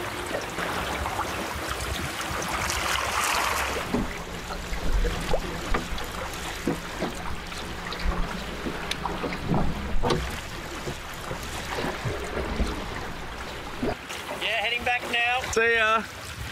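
Steady breeze and water rushing past a small sailing dinghy under blue skies, a continuous airy wash with intermittent splashes and wind buffeting on the microphone, ending with a brief warbling sound.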